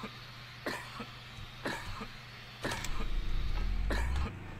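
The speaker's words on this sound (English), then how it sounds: "I'm literally coughing my lungs out." A video game character coughs from poison gas in four sharp, separate fits spaced about a second apart, over a low humming background. From Deus Ex: Revision.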